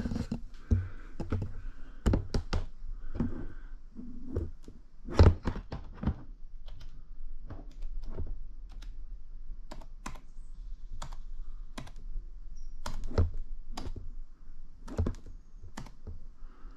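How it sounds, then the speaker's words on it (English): Someone types a password on the keyboard of a mid-2013 Mac, a close series of crisp key taps at an uneven pace over steady background hum, with no talking. "I'm going to put my password in"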